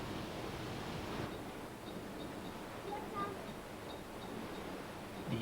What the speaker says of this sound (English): Now the gates can be opened to let the trapped water flow under the mill